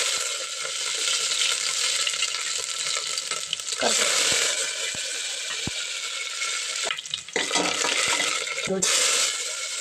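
Garlic sizzles in hot oil for a tempering, a loud, steady, close frying hiss running throughout, with a few sharp metallic clinks from a utensil against the pan.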